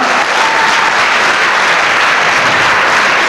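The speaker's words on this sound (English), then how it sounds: "Give him a big round of applause for that cup." Audience applause for a man receiving a cup at a karate charity event, dense and steady clapping filling the room for several seconds with a faint murmur of the crowd.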